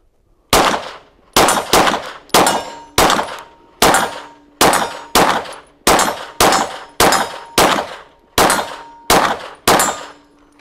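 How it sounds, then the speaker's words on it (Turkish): Pistol shots from a Sarsilmaz SAR 9 Sport 9mm fired at an outdoor factory test range: about thirteen sharp, loud reports in a quick steady string, each with a ringing metallic tail, and no talking. "Hemen buradan SAR 9'un sport modelini de 1-2 atış yaparak devam edelim, değil mi?"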